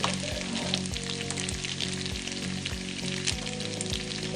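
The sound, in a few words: cooked noodles added to a sizzling pan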